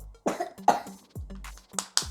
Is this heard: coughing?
yes